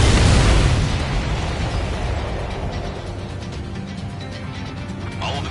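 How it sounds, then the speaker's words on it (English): Missiles explode in the Ace Combat video game: a loud boom opens the clip and fades into a long rumbling roar with crackling debris, with no talking. "All of the missiles have been destroyed."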